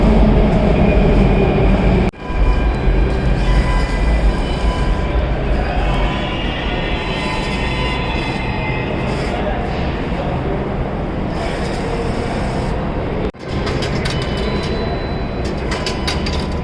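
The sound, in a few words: Delhi Metro train running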